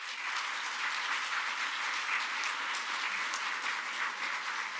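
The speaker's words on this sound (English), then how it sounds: "can we do a quick round of applause for our grads?" Church audience applauding graduates, steady even clapping from a modest crowd heard at a moderate distance, continuous and uniform for the whole stretch with no voices.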